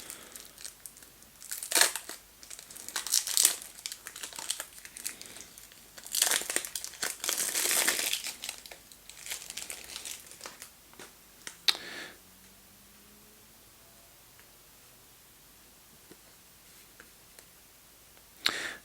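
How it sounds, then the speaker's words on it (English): A sealed wrapper on a pack of Holden car trivia cards is torn open, giving bursts of close plastic crinkling and crumpling for about twelve seconds before it falls quiet, with one last rustle at the end. "Let's open up the last pack."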